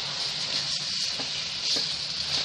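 Carrot halwa simmering with reduced milk and freshly added sugar is stirred in the pan, a continuous close sizzle with soft scraping of the spoon, steady and unbroken, with no talk.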